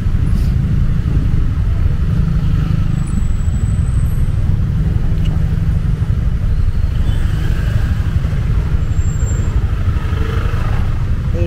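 Dense evening traffic in Pasig gives a constant, loud rumble of engines and passing vehicles, with motorcycles mixed into the steady wash of road noise.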